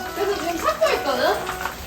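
Chicken deep frying in hot oil at about 170 degrees in a home kitchen, a soft sizzling crackle heard close under faint voices.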